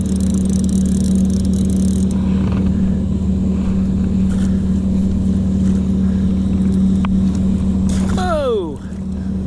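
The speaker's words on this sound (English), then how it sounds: "So the wind's really whipping up." Gusty wind rushes over the microphone beside a creek below a hydro-electric dam near Bishop, California, a loud continuous roar with a steady low hum underneath.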